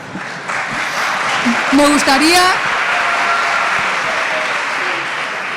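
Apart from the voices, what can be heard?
audience applause at a debate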